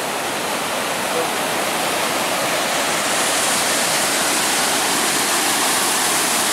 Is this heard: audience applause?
no